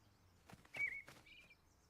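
Cartoon bird arriving at a dry garden bird bath, giving a few short chirps and a whistled tweet, fairly quiet and brief with faint background.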